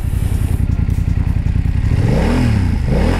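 A BMW F900R motorcycle on its stock exhaust, in the A2 restricted version, idles with a throbbing rumble and then revs up and down twice, loud and close.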